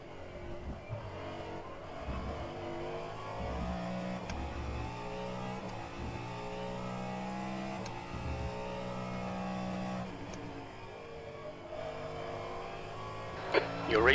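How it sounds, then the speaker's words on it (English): Cadillac hypercar racing in rFactor 2 at the 24 Hours of Le Mans, a steady droning engine note climbing and dropping through gear changes, with a commentator's voice over it. "hypercar, sounds effing awesome"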